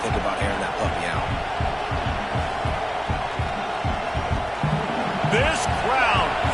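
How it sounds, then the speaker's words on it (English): A football stadium crowd roars in a sustained dense wash of noise, with a commentator talking over it and a few whistles or shouts rising near the end. "This crowd, full throat, splitting the eardrums"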